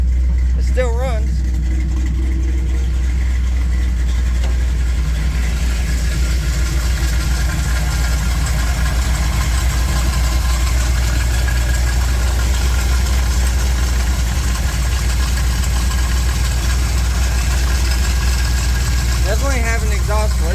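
A car engine idles steadily with a deep, constant low rumble, suggesting an exhaust leak and a loose alternator belt, running close and loud throughout with brief voices near the start and end.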